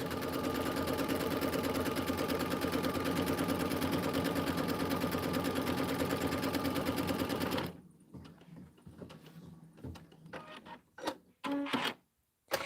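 An embroidery machine stitches a yellow tack-down line on the Autumn Acres border in a steady, loud, rapid mechanical run for most of the span, then stops, leaving quiet handling clatter and brief knocks.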